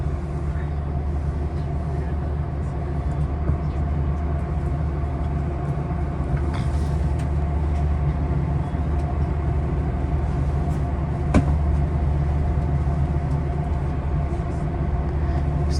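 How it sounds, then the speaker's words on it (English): A Capitol Corridor Amtrak train rolls steadily past Amtrak and freight rail yards, heard from inside as a continuous low rumble with a couple of sharp clanks, and voices talk over the noise. "here we are passing both the Amtrak and freight yards"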